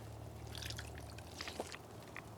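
Water flows in a fountain in the Fallout 4 video game, heard as a quiet, steady trickling and splashing with a few brief brighter spatters, faint and alone.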